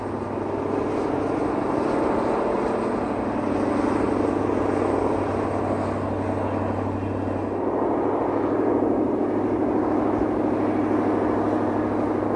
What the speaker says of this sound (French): Et la montée continue, au son rauque du diesel qui approche des 40 années d'âge.